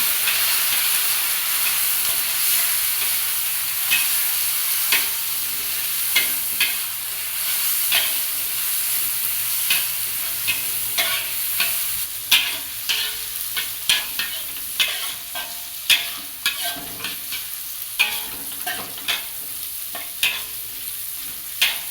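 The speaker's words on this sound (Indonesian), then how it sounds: "Kemudian kita tuangkan lenca dan juga cabai yang tidak diiris tadi ya." Leunca berries and whole uncut chilies stir-frying in a pan, a steady hiss of frying under repeated scraping clicks of a spatula that grow sharper and more frequent toward the end, with no talking.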